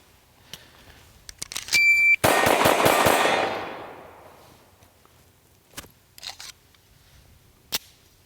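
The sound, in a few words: SAR USA K12 Sport shotgun firing rounds at steel targets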